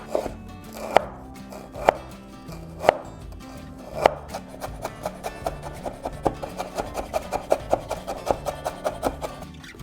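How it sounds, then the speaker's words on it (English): Garlic cloves are finely chopped with a knife on a board, starting with slow, spaced knocks and then speeding into a rapid, steady run of close, crisp chops with no voices. "Finely chop 3 to 4 cloves of garlic and dump it right on in there."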